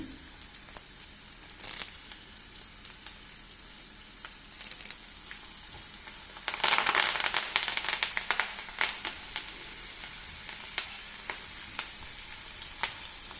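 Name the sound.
spices and curry leaves frying in oil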